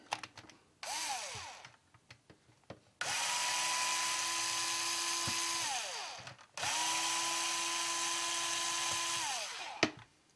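Electric screwdriver backing Phillips screws out of a Saeco brew group piston, two sustained whirring runs of about three seconds each with a rising start and falling stop, plus a short spin and light clicks and handling noises before them.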